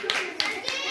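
Children clap in a classroom quiz session, three short bursts of claps ringing out close by while a child and an adult talk.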